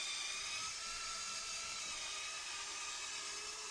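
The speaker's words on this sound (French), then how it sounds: "Donc là je suis pas à fond sur la visseuse." A cordless drill fitted with a polishing pad buffs a dull, yellowed car headlight below full speed, giving a steady, continuous whine with a high tonal edge that stays even and close throughout, with no voices.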